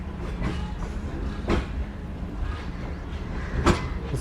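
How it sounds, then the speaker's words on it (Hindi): Shalimar Express passenger train with CNR coaches pulling out quietly, a low rumbling roll with faint wheel clicks and occasional sharp rail clanks, steady and fairly close. "नहायत ही खामोशी के साथ इस वक्त शालीमार एक्सप्रेस निकल रही है"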